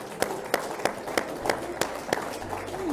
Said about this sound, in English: while you're clapping